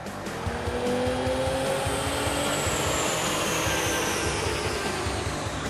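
Nissan 350Z engine running hard on a dyno, a loud steady roar with rising harmonic sweeps as it climbs through the revs, with no talk over it.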